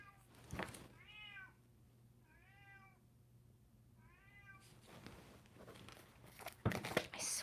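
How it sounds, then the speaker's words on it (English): A house cat meows three times at the door, clear drawn-out cries spaced about a second and a half apart, followed by scratching, rustling and crinkling noises near the door. "every time I'm doing Aquarius, my cat has to freak out at the door"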